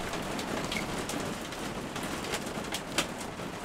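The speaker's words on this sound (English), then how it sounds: "The rain is getting a little bit too rough now" Steady rain patters on surfaces outdoors, a dense even hiss with scattered louder drops, while pigeons or doves coo faintly in the background.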